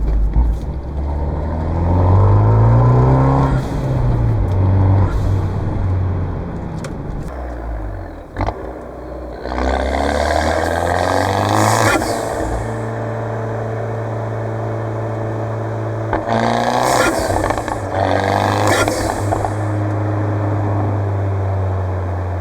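A Fiat 124 Spider Abarth engine at medium throttle, heard from inside the cabin: a steady, loud drone whose pitch climbs and falls through several gear pulls, with bursts of airy whoosh layered on top.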